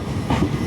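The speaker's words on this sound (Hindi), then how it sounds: "लगभग 5 मिनट के हॉल्ट के बाद हमारी ट्रेन निकल चुकी है परतूर से" An Indian Railways Rajya Rani Express passenger train rolls along after leaving a station, heard from inside a 3AC coach as a steady low rumble with a faint rhythmic wheel clatter, continuous and moderately loud.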